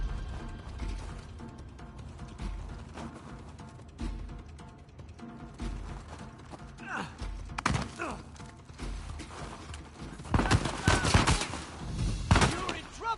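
Gunfire and sniper shots in the Uncharted 4 video game, with bursts of shots and heavy impacts that grow louder toward the end, under background game ambience and occasional voices.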